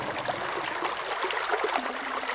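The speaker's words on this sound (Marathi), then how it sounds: "अगदी आजही तब्बल 4 फूट उंचीचा हा खळाळता प्रवाह" An underground water channel about four feet high, running for some 250 years toward the river ghats, gurgles with a soft continuous rushing flow, fairly faint and steady throughout.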